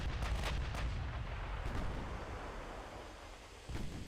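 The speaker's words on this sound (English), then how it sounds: "Another massive hit, destroying the main tower, taking half the health off the battleship in the process." Heavy naval shell hits landing on a battleship in Ultimate Admiral Dreadnoughts, a loud continuous rumble of booming impacts with several sharper blasts, and one last thud near the end.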